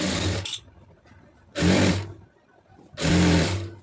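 Sewing machine stitching a single line along a folded blouse hem, heard as three short, loud, close whirring runs separated by near silence.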